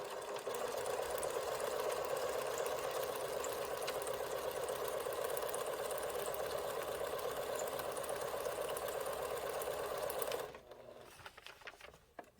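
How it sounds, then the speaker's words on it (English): A sewing machine running without thread, needle punching through lined paper in a fast, continuous, even whirring rattle held close and loud for about ten seconds, then stopping abruptly, leaving faint handling clicks. "Take the thread out of your machine, and then you're just going to feed it in"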